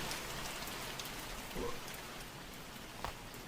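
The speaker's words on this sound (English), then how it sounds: "Why are we opening the window when it's raining outside?" Steady rain falling outside an open window in the horror video game Mortuary Assistant, a soft continuous hiss with a couple of faint brief bumps, no voices.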